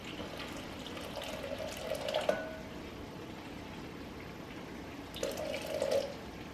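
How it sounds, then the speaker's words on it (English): Boiling water poured over strawberry Jello mix in a bowl, a steady liquid pouring and trickling sound with two brief stronger splashes, close and moderately quiet, no talking. "we're going to pour 1 cup of boiling water over top of the Jello mix here."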